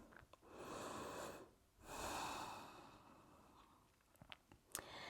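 A person breathing during a yoga flow while holding downward facing dog: two long, audible, airy breaths, close and fairly quiet, each one a slow sustained exhale or inhale with a short pause between, then a few small rustles.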